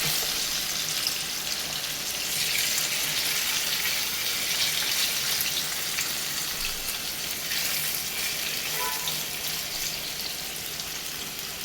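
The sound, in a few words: chicken pieces frying in green masala on high flame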